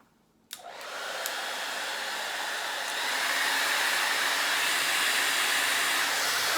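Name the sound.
Harry Josh blow dryer with ion switch, high heat, high power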